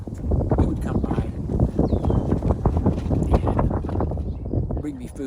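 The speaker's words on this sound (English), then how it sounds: "It's getting windy out here." Outdoor wind roars and buffets the microphone steadily throughout, with someone talking continuously over it.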